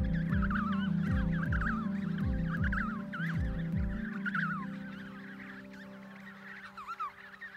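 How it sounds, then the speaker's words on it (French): Emperor penguin chicks call in a chorus of repeated whistling, warbling cries, with loud descending trumpeting calls from adults early on that fade, leaving chirps closer and quieter toward the end. "Il sera bientôt temps pour tous les manchots empereurs d'entreprendre leur marche vers la mer."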